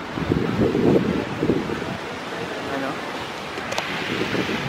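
Ocean waves washing onto the white-sand seashore at Nacpan Beach, Palawan, with a steady surf hiss and wind buffeting the microphone, moderately loud and continuous.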